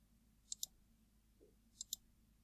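Two pairs of crisp computer mouse clicks, each a quick double click, with a pause between pairs while a spline is drawn in CAD software; faint and close over a low background hum.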